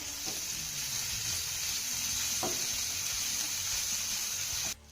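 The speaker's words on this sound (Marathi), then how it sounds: "आता हा लसूण आणि आलं आपल्याला चांगलं परतून घ्यायचं आहे" Grated garlic and ginger sautéing in a pan, with a steady, even sizzle and a few light stirring knocks that cut off abruptly at the end.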